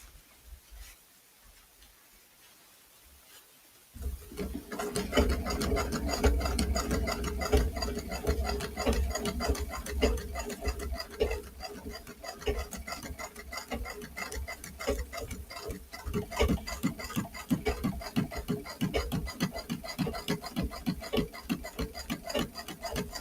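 A sewing machine stitches a row of fabric strips, starting after a few quiet seconds and then running as a steady, rapid ticking patter at moderate volume, with small variations in pace.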